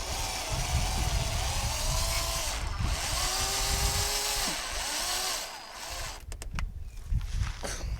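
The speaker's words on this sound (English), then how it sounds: "we're gonna go ahead and add the screws right through the middle" A power tool whirs in several rising and falling bursts while driving screws into a carbon fiber splitter on a BMW 335i, close and loud, before falling silent into a few clacks and handling noises.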